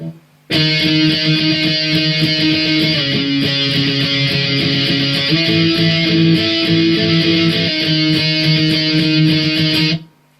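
Electric guitar plays bridge B of a song: steady, distorted strummed chords with a couple of chord shifts, loud and close, with no talking.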